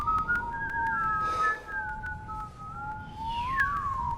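A person whistles while blowing air out, two wavering tones sliding and overlapping in a thin, airy melody, close and fairly quiet with no talk.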